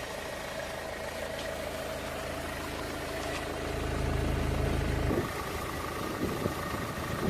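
A car engine idles steadily during exterior vehicle checks, a continuous low rumble that swells slightly before dropping back, with a faint click partway through.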